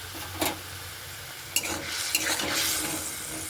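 Dried chili flakes go into hog plum pulp boiling in a pan, with a steady frying sizzle, a few sharp scrapes and clinks of a spoon against the pot, and no voices.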